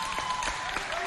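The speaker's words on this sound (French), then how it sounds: "On applaudit. Ça s'applaudit." A brief burst of steady audience applause in a community hall, many hands clapping together at moderate loudness.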